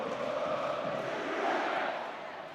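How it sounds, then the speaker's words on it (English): Crowd at a university rugby match between Cardiff Met and Cardiff, a broad sustained roar of cheering voices, moderately loud and diffuse, easing slightly toward the end. "listen to this crowd, Burnsy."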